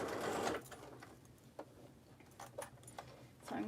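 A sewing machine stitches the fabric lining of a fanny pack, a soft mechanical whirring hum that runs briefly, pauses with faint clicks and taps, then starts up again, quiet and close.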